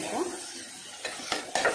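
Sambar ingredients of tomatoes, potatoes and drumsticks are stirred in a pan with a sizzle, marked by a few brief scraping strokes spread over a short moment, close and fairly quiet.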